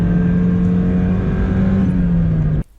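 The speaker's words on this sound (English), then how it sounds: "Full tilt in the Miata." A Mazda Miata engine wound out at full throttle from inside the car, a loud, sustained rising engine drone that holds steady before cutting off abruptly near the end.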